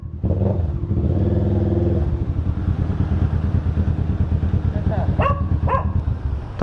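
Kawasaki Ninja 650 motorcycle fitted with a Villain exhaust pipe, its engine running steadily and loud throughout, with a couple of short sharp rises near the end and background chatter.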